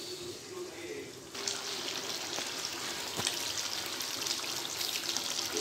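Meat sizzles and fries steadily in a pan with yogurt added on low heat, a continuous close hiss that swells louder after the first second with faint clinks.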